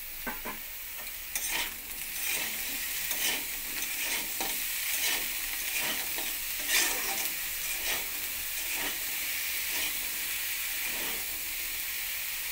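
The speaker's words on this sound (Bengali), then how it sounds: "বেগুনটা দিয়ে আবার একসঙ্গে আলু বেগুন ভেজে নেব।" Potatoes and eggplant sizzle together in hot oil, with a continuous frying hiss broken by repeated scraping stirs of a spatula against the pan, close and steady.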